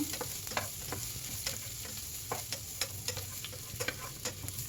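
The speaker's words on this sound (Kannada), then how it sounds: "ಇವಾಗ 1-2 ಈರುಳ್ಳಿ ಹೆಚ್ಕೊಂಡು ಹಾಕ್ತಾಯಿದ್ದೀನಿ ನಾನು. ಅದು ಕಲರ್ ಚೇಂಜ್ ಆಗೋದು ಸ್ವಲ್ಪ ಫ್ರೈ ಮಾಡ್ಕೊಳ್ಳೋಣ." Onions and cashews frying in a pan for vermicelli pulao, a steady close sizzle broken by repeated sharp clicks and scrapes of stirring, with no voices.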